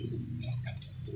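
Racing pigeons coo softly in a few short low murmurs, faint and close, set against quiet background ticking.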